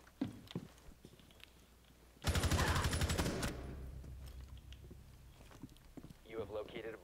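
A loud, rapid burst of automatic gunfire in a shooter video game lasting about a second, with softer game sounds around it and a person talking before and after.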